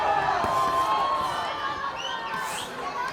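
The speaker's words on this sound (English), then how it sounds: "Let's listen to the crowd just enjoying this." Boxing crowd at Fantasy Springs roaring and cheering during a fight, a dense, steady wash of voices with a few shouts standing out, loud and continuous throughout.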